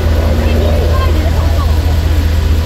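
Tour buses idle near the Capitol on the National Mall in Washington DC, a low steady engine rumble with city hubbub behind a person speaking close by.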